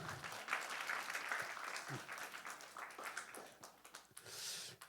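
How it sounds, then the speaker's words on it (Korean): Applause from a church congregation during a sermon, a fairly quiet, steady patter of clapping that swells toward the end with no talk over it. "우리 두 친구에게 박수하겠습니다"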